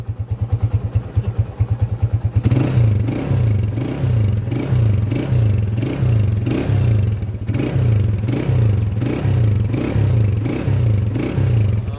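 A motorcycle engine runs steadily at close range, its chugging idle pulsing in an even rhythm with a faint metallic clatter, putting out white smoke.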